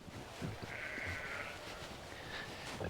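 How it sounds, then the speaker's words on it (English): Sheep bleat on a farm, a couple of brief wavering cries at moderate distance over soft outdoor background noise. "We might as well look at the sheep."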